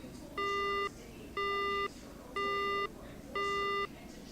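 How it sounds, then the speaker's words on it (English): Phone call disconnect tones in the Spirit Hunter video game: four evenly spaced, identical electronic beeps, each about half a second long, repeating at a steady one-second rhythm over a quiet background. "The call disconnects."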